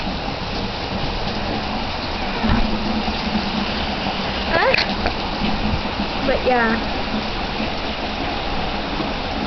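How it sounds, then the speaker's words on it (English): Heavy rain pours down at night during a thunderstorm, a dense continuous hiss with a few faint rumbles, while a person speaks briefly over it. "It's like raining really hard."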